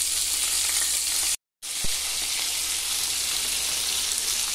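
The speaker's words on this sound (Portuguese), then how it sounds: "Na verdade, nem é óleo, eu estou fritando na banha" Fish frying in hot lard gives a steady, loud broadband sizzle and crackle that runs through the whole stretch, broken by one brief gap, with a single soft knock just after it and no talking.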